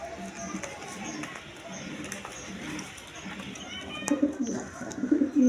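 A pair of Lalgorra pigeons, a male and a female, coo in a few short bursts near the end, rising above a steady murmuring background, with a voice talking through much of it.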